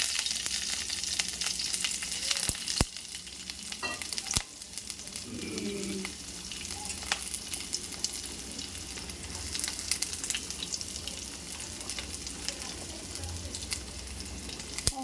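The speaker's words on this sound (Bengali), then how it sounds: "তারপরে একটু পেঁয়াজ আর একটু কাঁচা লঙ্কা দিয়ে দেবো।" Onion and green chilli frying in a pan with a dense, close sizzle throughout, punctuated by a few sharp clicks and knocks, and a faint voice briefly underneath.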